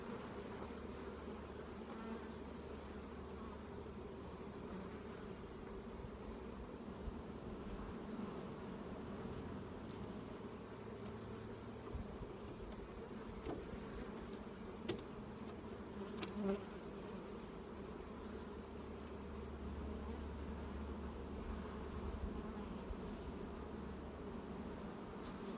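Honey bees hum around a hive in a continuous, dense drone, a steady buzzing mass of insects close by with no pauses.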